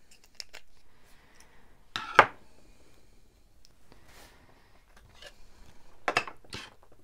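Scissors snipping planner paper and tape on a Classic Happy Planner spread, a few quick close cuts, with one sharp louder snip and a final pair near the end.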